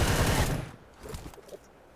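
Gunfire in the battle royale video game BGMI, a rapid burst of automatic shots for about half a second, then a few fainter scattered shots.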